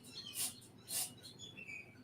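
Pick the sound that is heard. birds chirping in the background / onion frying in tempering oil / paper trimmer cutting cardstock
birds chirping in the background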